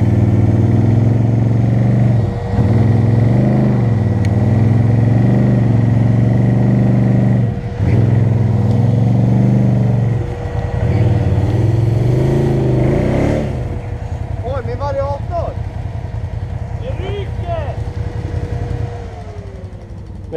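An ATV engine idles and revs loudly on a ski slope, its steady drone dipping and surging in several bursts as the clutch engages, then settling to a lower, rougher running note before fading slightly at the end.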